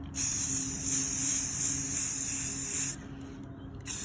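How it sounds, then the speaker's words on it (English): Sustained hissing spray from an aerosol spray paint can outdoors, one long burst, a short pause, then the spray starts again, close by. "So I'm going to spray paint out here"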